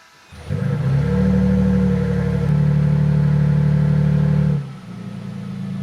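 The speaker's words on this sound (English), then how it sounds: "the first thing that I like, guys, is actually the TRD exhaust. This V6 puts out a throaty sound." A 2023 Toyota Sequoia TRD Pro's V6 with TRD exhaust revs up and holds a deep, throaty roar for several seconds, then drops back toward idle, loud and close.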